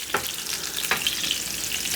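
A peppered sirloin steak sizzles in a hot pan, a steady hissing fry with a few sharp pops, close and alone without talk.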